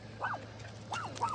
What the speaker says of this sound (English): You hear my dogs. You can hear the dogs right now, literally.